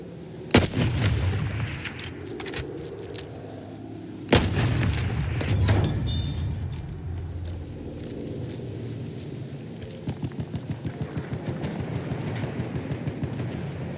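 In Battlefield 1, a scoped Martini Henry sniper rifle fires two loud, booming single shots a few seconds apart, followed by a steady patter of rapid, more distant gunfire from the battle.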